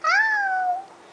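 A young child imitates a cat's meow with one drawn-out, rising then falling "meow" at close range, with no other sound around it.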